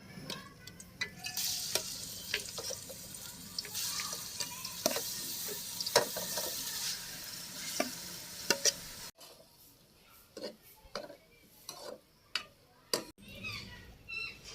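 Liver curry (kaleji) cooks in a pot on a village stove, frying with a steady hiss and sizzle while a spoon scrapes and clinks against the metal, then the sizzle drops away, leaving sparse sharp taps and stirring knocks.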